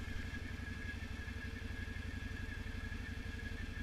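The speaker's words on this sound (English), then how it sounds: "Sounds like floating valves to me. Sounds like they're a little loose. Just in there slapping around." A Can-Am 570 XMR side-by-side engine idling with loose, clattering valves, a fast steady mechanical ticking over a low even rumble, close and constant throughout with no voices.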